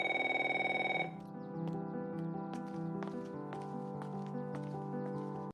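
A household telephone rings with a bright repeated electronic tone for about a second, then stops, leaving a quiet room with faint clicking and rustling sounds.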